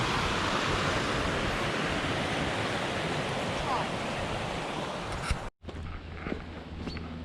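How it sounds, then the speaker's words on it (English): Rushing river water near Chartham on a countryside walk, a loud, steady broadband roar filling most of the stretch before cutting off abruptly, followed by quieter outdoor ambience with a few faint bumps. "I just love the sound of rushing water."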